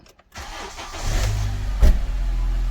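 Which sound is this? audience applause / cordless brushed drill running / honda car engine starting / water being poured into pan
honda car engine starting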